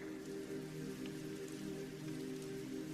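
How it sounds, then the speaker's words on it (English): Rain falls steadily outdoors near a garden gate at night, a soft continuous patter of drops on surfaces, faint and even throughout with no voices. "The rain dripped from his jacket."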